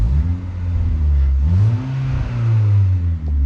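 A Volkswagen Golf Mk4 with a little 1.6 engine and a repaired exhaust that no longer leaks revs up and down repeatedly, a loud, close, smooth rising and falling engine note with no talking.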